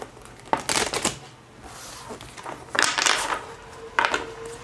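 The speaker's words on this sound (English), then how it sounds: "I will be shuffling the cards and focusing on your energy." Tarot cards are shuffled by hand in quick papery riffles and slaps, in several short bursts with quiet gaps between them, close and fairly soft.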